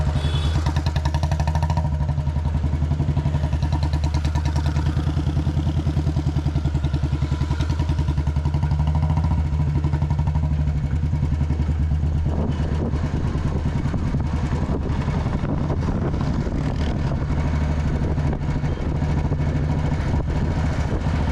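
An old cast-iron Royal Enfield Bullet motorcycle coasting downhill on engine braking, a steady deep thumping single-cylinder drone with mechanical clatter, loud and close throughout with no talk.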